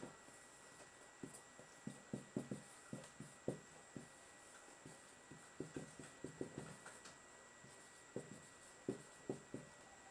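Handwriting of a sentence during an English grammar lesson, with soft, quick pen or marker strokes on a surface in short irregular bursts, close but very faint, with no talking.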